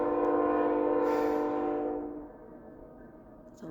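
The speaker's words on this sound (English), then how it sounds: "It's a loud train." A loud train passes close by, its horn blaring in a strong, sustained harmonic blast that fades as the rumble of the cars trails off into a quieter roll, with no one speaking.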